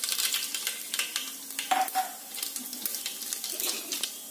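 Mustard seeds crackle in hot coconut oil in a pan, a close, steady sizzle scattered with sharp little pops, with some stirring scrapes.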